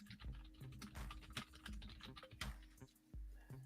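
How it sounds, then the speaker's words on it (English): Fingers type quickly on a computer keyboard in an uneven run of close, crisp key clicks with no talk over them. "I'm just typing it onto the sheet so you guys can read the question here."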